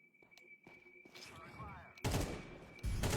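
Gunfire from the video game Counter-Strike, rapid bursts of shots that grow loud in the second half, with talk heard early on.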